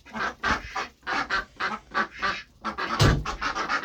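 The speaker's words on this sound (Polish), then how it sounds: "Może weź iść otwórz kaczki, bo będą się darły." Ducks quack in loud, rapid bursts nearby, a run of harsh overlapping calls with short pauses between them.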